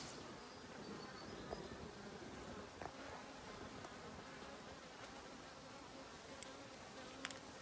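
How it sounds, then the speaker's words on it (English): Honeybees hum around backyard beehives in a steady, faint, continuous drone, with occasional individual insects buzzing closer past the listener and no talking. "So here's a nice little shot of our bee area."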